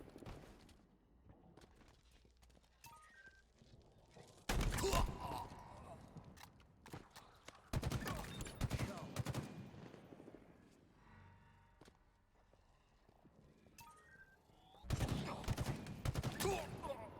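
Bursts of battle rifle fire in Halo Infinite's zombie-style game mode, several loud rapid volleys separated by quieter stretches of game ambience and distant shots.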